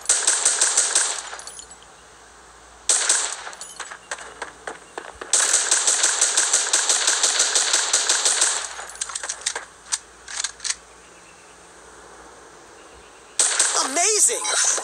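Gunfire in the video game Creative Destruction: rapid, crackling bursts of shots separated by short pauses, loud and close, with a few isolated single shots between the volleys.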